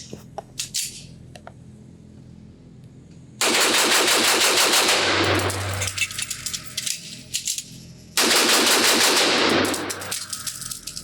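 Rock Island Armory 1911A1 pistol in TCM9R fired as fast as possible at a range: two long bursts of rapid, loud, closely spaced shots, broken by a pause with faint metallic clicks and handling noise during the magazine change.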